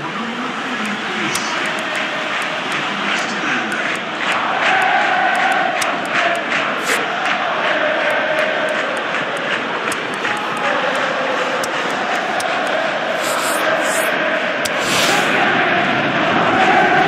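Stadium crowd in the football video game PES 2018, a steady loud roar of massed voices swelling slightly midway and holding throughout, with faint whistles near the end.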